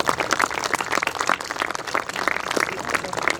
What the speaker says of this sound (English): Let's give a huge round of applause to all our award recipients.